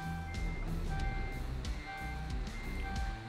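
Repeated electronic truck low air pressure warning beeps in Euro Truck Simulator 2, in a regular on-off pattern over a low rumbling engine, fairly loud and close, with no talking.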